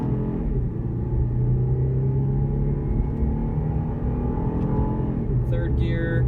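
A Cadillac CTS Sport's engine pulls steadily through the gears from inside the cabin, a loud continuous rumble with shifting harmonic tones, and a brief higher clatter near the end.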